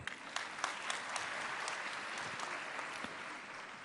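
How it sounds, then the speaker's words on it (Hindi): Loud, steady applause from a large audience at a Madhya Pradesh government event for the Ladli Laxmi scheme, dense continuous clapping with scattered sharper claps throughout, no voices. "जय घोष करिए, जोरदार तालियां।"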